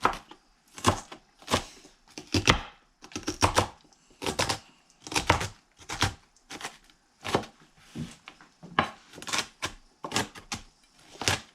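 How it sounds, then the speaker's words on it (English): A knife finely shreds cabbage on a cutting board in a steady series of crisp, close chopping strokes, roughly two per second, with no talking. "So this is the cabbage and I shred it like finely."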